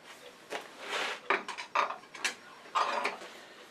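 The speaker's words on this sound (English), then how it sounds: "then of course tighten it up with this drawbar" Metallic clanks, scrapes and ratcheting turns as a collet chuck drawbar is tightened on a woodturning lathe, a series of close, irregular bursts of moderate loudness with no talk.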